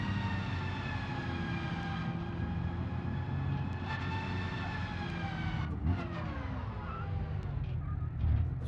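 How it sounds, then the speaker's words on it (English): Loud, continuous harmonic squeal from a heavy trailer's brakes locking up behind a turbocharged vehicle in BeamNG, sustained over steady engine and road rumble and shifting pitch slightly partway through. "Trailer locking up its brakes there."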